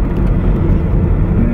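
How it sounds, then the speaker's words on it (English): A Toyota MR2 SW20 sports car engine drones loud and close as it shifts firmly into second gear, a steady low rumble with no talking. "Good firm shift to second."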